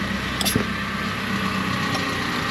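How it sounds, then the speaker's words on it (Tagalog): A 2017 Toyota Avanza engine idles steadily at close range, a constant low rumble with a brief clunk partway through during brake work on the car. "Patay mo na makina."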